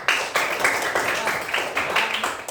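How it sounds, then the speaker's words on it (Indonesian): Short burst of clapping from students in a classroom, a moderate, somewhat uneven patter of hands lasting a couple of seconds at close range. "Ya, tepuk tangan buat Komangnya."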